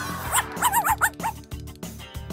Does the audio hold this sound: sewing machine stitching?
no